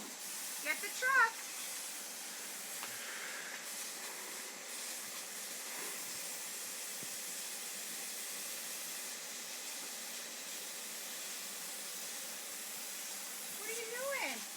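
A garden hose sprays water onto a dirty truck during a home wash, giving a steady, close hiss that runs nearly unbroken, with brief sounds of other activity near the start and end.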